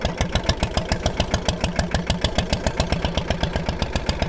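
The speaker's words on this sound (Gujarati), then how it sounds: "ટ્રેક્ટર લઈને આવી જા કનું" A tractor engine idles loudly nearby, its steady chugging pulses repeating in an even, rapid rhythm with no other sounds.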